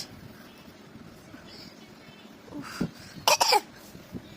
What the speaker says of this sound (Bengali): কাশি হচ্ছে কাশি হচ্ছে